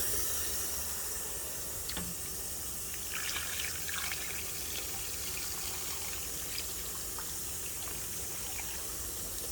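Water poured from a pitcher into a pot of beans, a steady broadband wash of splashing and trickling that holds constant throughout, with a few brief clinks near the start.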